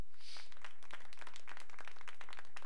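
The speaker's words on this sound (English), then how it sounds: "That's the most stunted applause I've ever seen in my life." Sparse, thin applause from a crowd in the Mortal Kombat fighting game, a few scattered claps over a steady hiss, fairly quiet and brief, with no talking.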